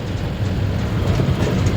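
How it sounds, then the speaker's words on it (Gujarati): A passing train rumbles steadily nearby, a dense low roar with faint clickety-clack from the wagons, heard alone without talk. "જો રેલગાડી જાય છે ટુ ટુ કરતી"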